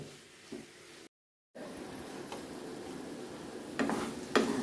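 Mushroom and potato curry stirred in a pan with spices and no water, a soft sizzle with scraping spoon strokes, close and quiet, with a brief silent gap and a couple of louder scrapes near the end.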